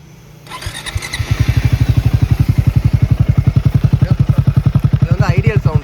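A Triumph Speed T4 motorcycle fires up nearby and settles into a loud, steady exhaust idle, its even rapid thumping pulses running throughout.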